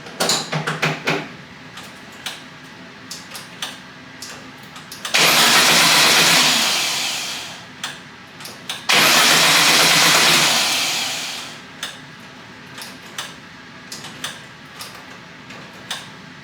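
A 1973 VW Thing engine being started with a keyed ignition: two loud starter-and-crank bursts of a few seconds each, separated by a short pause, with scattered mechanical clicks and ticks before and after.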